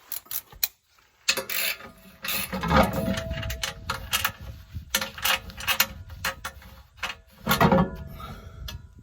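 A 13 millimeter ratchet clicks in bursts while loosening a skid plate bolt on a Jeep TJ/LJ, with rapid pawl ticking, metallic clanks and pauses between strokes, close by.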